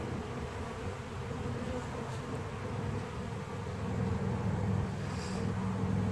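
Honey bees clustered on comb in an open hive during an inspection, a continuous low buzzing hum that swells slightly louder near the end, with no voices.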